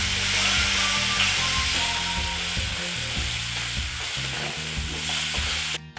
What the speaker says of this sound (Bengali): পেঁয়াজটা সামান্য ভাজা ভাজা হোক।